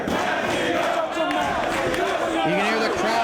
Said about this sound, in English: You can hear the crowd here in Manhattan getting behind Azrael to stay in this matchup.